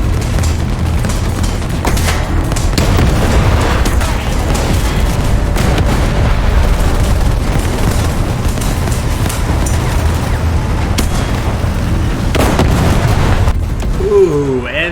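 Tank combat in War Thunder: a loud, continuous wash of engine rumble and booming cannon fire with repeated sharp impacts, including the shot that destroys a T-80 tank, dense and close throughout with no clear talk.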